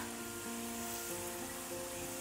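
Potatoes fry in hot oil, giving a continuous close sizzle that stays even and fairly faint throughout, with no talking.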